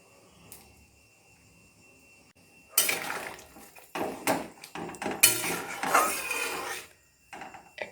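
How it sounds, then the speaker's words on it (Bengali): Fried fish is added to a pot of boiling capsicum, bringing loud clattering and scraping of utensil against pot in several bursts after a quiet start, close by and without talk. "এখন অ্যাড করছি ভেজে রাখা মাছ।"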